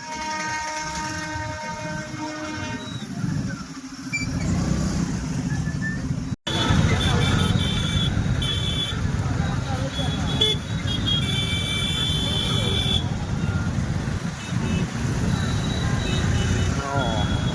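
Heavy road traffic jam near Jambuvati cave in Ranavav, a steady roar of engines with horn toots and a passing train rumbling close throughout, while people talk over the din.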